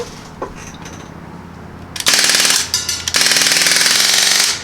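A Crosman R1 CO2 air rifle fires full auto in two loud, rapid bursts of rattling shots, the second longer, after a few quiet clicks and handling noises, with no talking.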